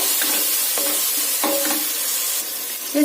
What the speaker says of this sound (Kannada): ಇದನ್ನು ಅಷ್ಟೇ ಟೊಮೆಟೊ ಸ್ಮ್ಯಾಶ್ ಆಗೋ ತನಕ ಚೆನ್ನಾಗಿ ಫ್ರೈ ಮಾಡ್ಕೋಬೇಕಾಗತ್ತೆ